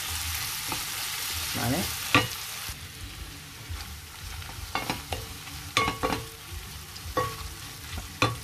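Spices sauté gently in a pan for mackerel escabeche, a soft low sizzle broken by sharp clicks and scraping of a utensil against the pan, with one brief spoken word.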